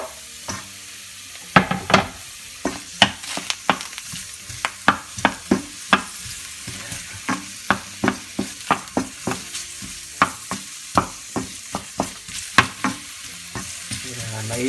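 Sliced onions fry in very hot oil in a pan, giving a steady sizzle broken by many sharp clicks and scrapes of stirring, close and fairly loud throughout with no talking.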